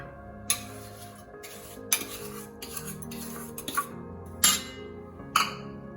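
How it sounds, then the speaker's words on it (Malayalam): A spoon stirs healthy dosa batter in a bowl, with several sharp clinks against the rim at uneven intervals between softer swishing. "ഇനി ഇതിലേക്ക് വെള്ളം ഉരുക്കിയത് ചേർത്ത് ഇളക്കി കൊടുക്കാം"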